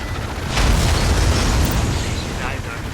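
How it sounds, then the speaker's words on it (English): Artillery fire in the real-time strategy video game EndWar, a heavy sustained explosive rumble that swells and lingers for a couple of seconds over a busy battlefield mix, with voices speaking around it. "Artillery fire on our position."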